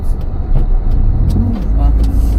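Road traffic jam heard from inside a car, with a steady low rumble of idling engines and vehicles close by, people talking faintly over it.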